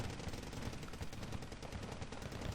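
Dense, rapid gunfire from a Wargame: Red Dragon multiplayer battle, with overlapping machine-gun bursts and shots rattling continuously at a fairly low level, no voices.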